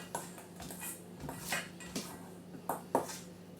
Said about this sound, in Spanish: vaciar los polvos de hornear sobre la harina y mezclar